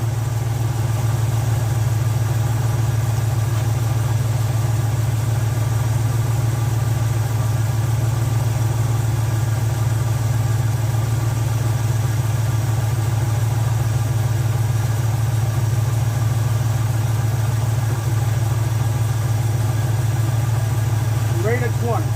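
A 350ci Chevy V8 in a classic GM farm truck idles with a steady, low rumbling drone, loud and even throughout, while a faint voice speaks over it.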